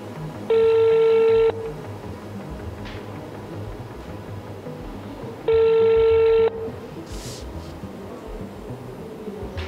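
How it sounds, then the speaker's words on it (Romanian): A telephone call rings out through a handset: two loud, identical ringback tones about a second long each, spaced several seconds apart, with quiet line hiss between them. "am revenit cu un apel telefonic"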